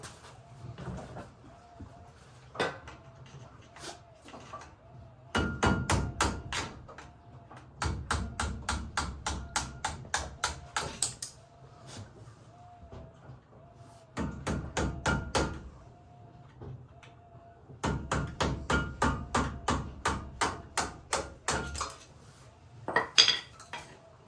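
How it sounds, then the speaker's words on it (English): Bursts of rapid metallic tapping from a hammer striking a flathead screwdriver to drive out pins on a Ford Ranger brake caliper, in several clusters of quick repeated blows separated by short pauses. "I'm just going to use a flathead and a hammer."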